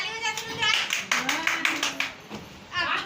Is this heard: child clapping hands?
yes